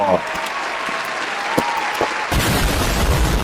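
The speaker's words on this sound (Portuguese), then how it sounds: "palmas para o patrocínio no canal" Studio applause for a sponsor segment on a Brazilian reaction channel, a dense burst of clapping with a few sharp pops, then a louder wash of cheering and clapping toward the end.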